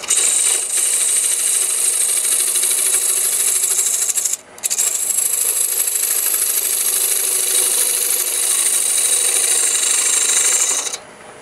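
A long, steady rasping scrape of a grinder-sharpened tool slicing shavings off wood, loud and close, with one brief pause before the cut carries on.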